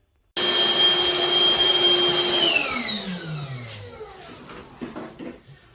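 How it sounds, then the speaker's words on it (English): A small vacuum cleaner, used on a bathroom shower, whirs loudly with a steady high whine, then is switched off and winds down, its pitch sliding lower until it fades. "this little vacuum works great. Got a lot of power for the size."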